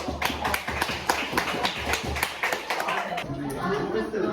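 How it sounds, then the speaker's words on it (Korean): Children clap together in a school classroom, a dense run of sharp claps mixed with lively chatter, tapering off near the end. "박수."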